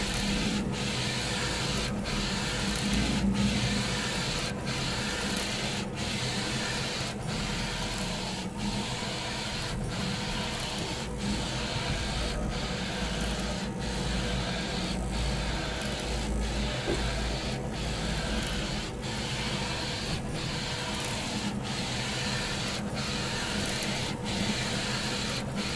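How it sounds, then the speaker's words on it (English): A DTG M2 direct-to-garment printer prints a large 16 by 24 inch tiger image, giving a steady mechanical hum with regular clicking pulses as the print head sweeps back and forth, close and continuous with no talk. "This is the DTGM2, printing an almost"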